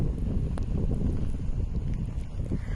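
Strong wind in a Canadian snowstorm gusts in a continuous low rumble, buffeting loudly and steadily with faint scattered ticks on top.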